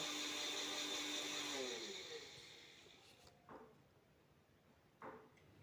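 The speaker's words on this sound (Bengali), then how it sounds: "আমি পোস্তটা বেটে নিচ্ছি দেখো প্রথমে ড্রাই অবস্থায় বেটে নিয়ে" An electric grinder whirs loudly for about two seconds while grinding poppy seeds into paste, then winds down, followed by a couple of soft knocks.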